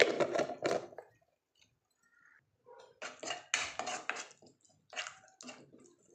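Fish curry being stirred in a pan, with a flurry of metallic scraping and clinks in two bursts separated by a short lull, close and fairly quiet, no talk.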